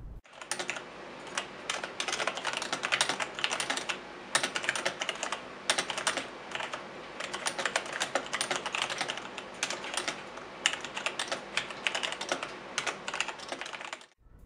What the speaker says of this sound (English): Here is a quick sound test.